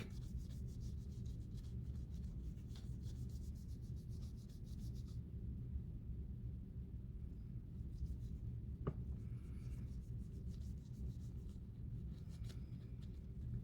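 Quiet, continuous rubbing on a coin surface to darken its finish, a soft steady scratchy friction that runs on without pause, close up and faint, with no talk.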